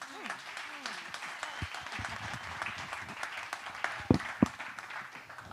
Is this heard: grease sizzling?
no